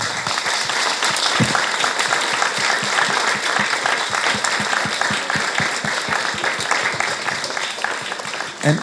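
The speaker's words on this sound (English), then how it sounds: "I hope you will join me in giving a huge round of applause to this amazing group" Sustained audience applause closes a panel discussion on the Uyghur Tribunal and China's genocide: dense, even clapping from a crowd that continues for several seconds, with a brief louder burst at the end.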